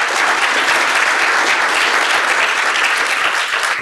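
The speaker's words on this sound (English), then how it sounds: "one more round of applause for Andrew." A conference audience gives dense, sustained applause, loud and even throughout with no talking over it.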